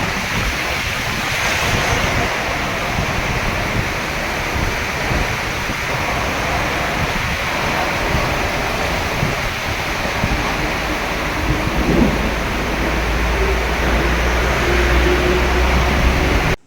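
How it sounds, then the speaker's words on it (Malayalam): Heavy summer rain driven by wind pours down over Manjeri in Malappuram, a dense, steady roar that fills the whole stretch without letup, with no voices over it. "കാറ്റോടും ഇടിയോടും കൂടിയെത്തിയ അതിശക്തമായ മഴയാണ് മഞ്ചേരിയിൽ പെയ്തിറങ്ങിയത്."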